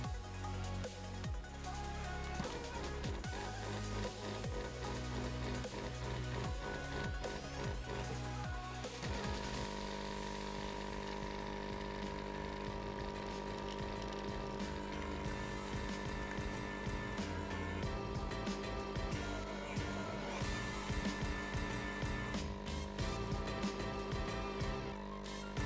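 A La Specialista Maestro espresso machine pumps and brews espresso with a steady mechanical buzz and hum that shifts in tone partway through, close and continuous, with no voices.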